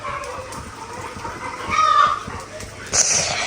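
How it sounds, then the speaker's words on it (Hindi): Hens clucking after laying eggs, a noisy squawk rising near the middle and another sharp cackle near the end over a busy yard background, with voices in between. "मुर्गियाँ कितना शोर कर रही हैं।"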